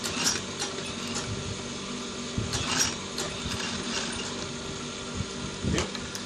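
A sewing machine stitches a trouser seam, giving a steady close mechanical whirr and rattle with small knocks and clicks of handling throughout, and no talking.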